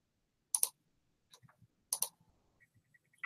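Keystrokes on a computer keyboard: a few sharp clicks in small bursts separated by quiet gaps, fairly faint and close, with no talking.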